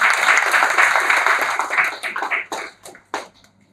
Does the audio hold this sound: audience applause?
yes